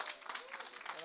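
An audience gives warm applause to welcome a workshop leader at a church summer gathering, a dense steady patter of clapping through the whole moment with voices mixed in.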